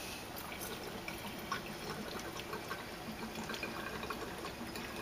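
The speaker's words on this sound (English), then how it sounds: "I'm going to add 200 milliliters of methanol." Methanol, 200 millilitres, is poured into lye, making a faint, continuous liquid trickle and splash under steady background hiss.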